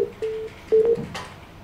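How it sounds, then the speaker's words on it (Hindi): Telephone line tones as a call connection drops: short beeping tones in a broken rhythm, moderately loud with faint background noise and no talk. "चलिए, संपर्क टूट गया है रवि यहाँ पर देवी सिंह जी से"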